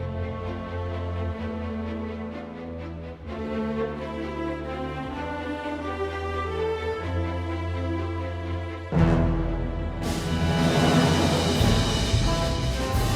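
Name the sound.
Orchestrion roll music, Final Fantasy XIV video game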